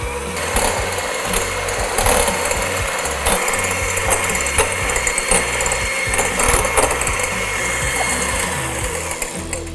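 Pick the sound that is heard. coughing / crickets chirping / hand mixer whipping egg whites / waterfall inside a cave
hand mixer whipping egg whites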